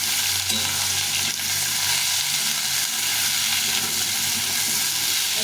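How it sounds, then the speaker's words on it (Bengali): Bitter gourd and potato pieces fry in hot oil with a loud, continuous close sizzle and hiss, mixed with occasional stirring scrapes. "এখন আমি করলাগুলো দিয়ে দিব করলাগুলোকে ভালো করে ভেজে দিতে হবে"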